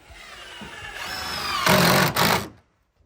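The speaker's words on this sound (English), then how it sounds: "just putting the last couple screws in" Power screwdriver driving the last couple of screws into a bracket on a roof, a rising whir that builds over about two seconds, then stops abruptly; close and fairly loud.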